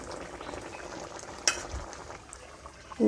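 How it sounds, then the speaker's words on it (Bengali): A bottle gourd curry with a rohu fish head cooks in a pan, giving a soft, steady bubbling sizzle with a faint clink partway through and a brief knock at the end. "আর এখন হলো লাউ রান্না করতেছে"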